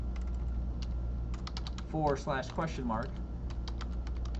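Computer keyboard typing at a command prompt, a quick run of light clicking keystrokes, close and moderately quiet, with someone speaking briefly over the middle of it.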